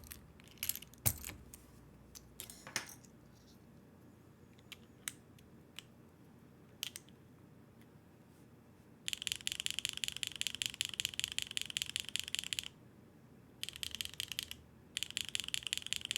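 Typing on BSUN and Kailh mechanical keyboard switches: scattered single clicks and clacks at first, then dense rapid keystroke bursts, close and crisp, with short pauses between runs.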